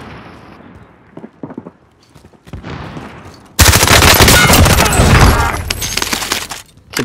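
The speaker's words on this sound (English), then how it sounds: "Kid shooting at me from the back too." A few faint scattered shots in a shooter game give way to a loud, sustained burst of automatic gunfire close by that runs for several seconds, with a brief later shot and a voice faintly heard underneath.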